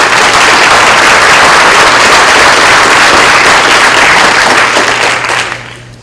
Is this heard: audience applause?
yes